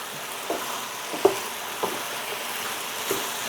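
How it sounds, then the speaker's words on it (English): Pork ribs and onion stir-fried in a wok give off a constant loud sizzle, with a handful of scraping stirs and clinks spaced through the few seconds and no voices. "Just stir fry this a bit."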